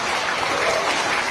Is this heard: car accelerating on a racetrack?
no